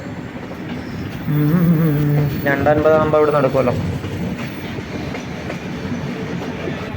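An express train rumbles steadily nearby at a railway station with a brief horn-like tone and some metallic squeal, while people talk over it.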